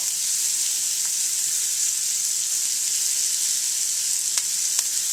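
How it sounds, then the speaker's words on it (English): Chopped onions sizzle steadily in a hot pan for an omelette, a continuous close frying hiss broken by a couple of tiny pops and clicks, with no talking. "I like my onions grilled in my omelet"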